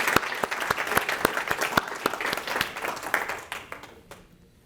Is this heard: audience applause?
yes